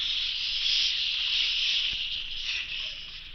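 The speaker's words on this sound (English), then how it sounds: "I think I hear steam escaping." A steady, loud hiss like steam escaping, holding for several seconds with no talk over it, set in the quiet of a library.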